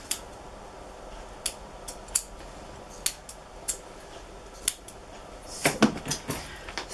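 Scissors snip through a Tibetan Terrier's coat in sharp, crisp clicks at an uneven pace, close by, with a quick flurry of cuts near the end.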